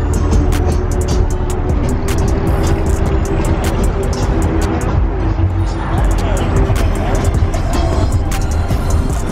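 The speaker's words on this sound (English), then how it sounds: "We about to ride out with the Corvette crew, y'all." Loud, continuous engine rumble as a group of Corvettes from a Corvette club gets set to roll out together, constant close motor drone with sharp ticking and clatter, people chattering over it.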